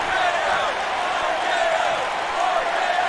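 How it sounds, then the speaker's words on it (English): Wrestling crowd at a live independent wrestling show roaring and cheering steadily after a cutter, a dense, continuous wall of voices with no pauses. "Listen to this crowd paying homage to the king of cutters, the Viper, as this crowd..."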